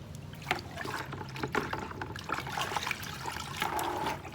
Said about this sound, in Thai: นี่เห็นไหมเราก็เพิ่มน้ำ